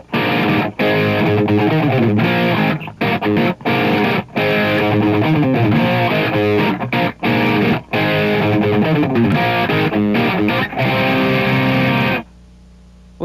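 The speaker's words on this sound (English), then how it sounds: "I've turned the reverb off and turned a lot of chorusing on to get this sound." Loud, sustained electric guitar riff played through heavy chorus with reverb switched off, dry and shimmering, choppy rhythmic chords with brief gaps, ending abruptly.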